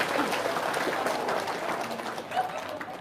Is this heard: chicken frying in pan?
no